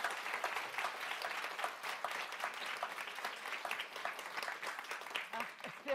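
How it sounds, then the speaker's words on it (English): An audience gives a round of applause for the panelists at a Lean In Ireland event. The clapping is dense and steady for six seconds, moderately loud, with a voice breaking in faintly near the end. "A round of applause, I think,"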